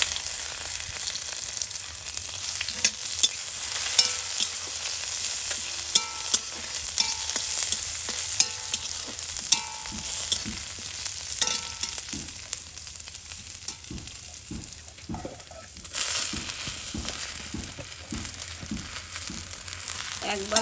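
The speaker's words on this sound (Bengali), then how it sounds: "এবারে এই যে ফোড়নে দিয়ে দিচ্ছি পাঁচফোড়ন, তেজপাতা, শুকনো লঙ্কা" Panch phoron, bay leaf, dried red chillies and garlic sizzle and spit in hot oil for a Bengali jolkochu greens dish, a steady loud crackling fry with sharp pops and the scrape of stirring throughout.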